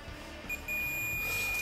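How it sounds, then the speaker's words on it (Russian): A continuity tester's beeper sounds a thin, steady, high-pitched tone that starts about half a second in and holds unbroken to the end. It is faint over a low background hum. "Ставим ее на пищалку."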